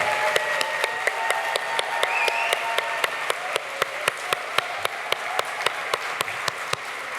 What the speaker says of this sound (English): I want everyone to give him a huge round of applause because he so deserves it.